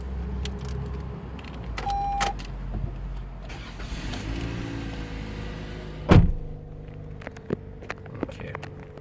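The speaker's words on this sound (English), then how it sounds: "So I'll jump inside the car, we'll start it up." Inside a 2019 Toyota RAV4 GX, scattered clicks and chimes come before a short starter crank, which catches into a low, steady engine idle with small mechanical ticks continuing.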